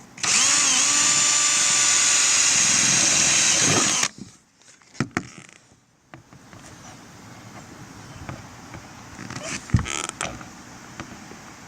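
Power drill with a 3/16 inch bit boring holes for the hinges of a MaxAir II louvered vent, a loud steady whine for about four seconds, then stopping, followed by faint handling clicks and knocks.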